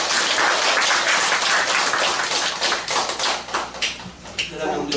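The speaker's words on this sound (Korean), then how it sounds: "박수 한번 주십시오." A church congregation claps in dense, steady applause during a Sunday service that thins out and tapers off toward the end.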